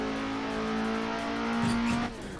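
An FSO Polonez with a 5-speed gearbox accelerates hard around the Nürburgring, its engine droning loud and steady from inside the cabin, then rising in pitch before a gear change near the end.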